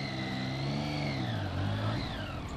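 A motorcycle going through a drive-thru is put in gear and pulls away, its engine whirring and rising in pitch, then dropping briefly at a shift before climbing again, fairly quiet and steady.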